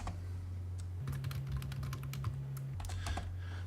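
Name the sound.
typing a shortcut on a computer keyboard and pressing Enter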